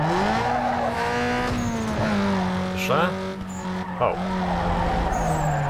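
Tires skid and squeal as a Toyota Corolla slides through a corner in the Need for Speed Underground 2 racing game, a sustained engine drone with rising squeals, while someone briefly speaks over it.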